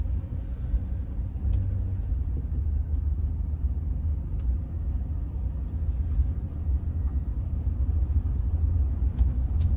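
A Waste Management compost rear loader garbage truck climbs a neighborhood hill, its engine a steady, loud, low rumble that holds constant without breaks.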